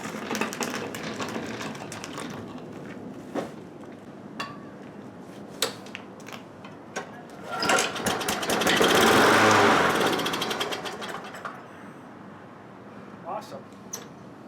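A free Bolens lawn mower being revived sputters into life: a small engine coughs in short bursts, then swells into a loud, rough run for a few seconds before dying back down, with occasional clanks nearby.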